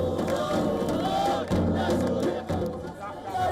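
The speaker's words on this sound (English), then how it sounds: "Hundreds of Syrians gathered outside the UN headquarters, waving flags and cheering their president on." Hundreds of Syrians rally outside UN headquarters, a dense continuous crowd roar of cheering and shouting that holds steady throughout, with brief dips, and no single voice standing out.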